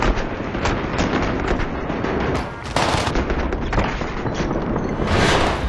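Rapid SMG fire in Warzone, the Armageddon, crackles in dense, continuous bursts, loud and close, with short gaps and heavier shots layered among the rounds.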